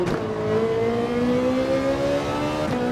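Lexus GT3 race car engine in Gran Turismo 7 revving hard and rising steadily in pitch as it accelerates, loud and continuous, with a brief gearshift dip near the end and no talking.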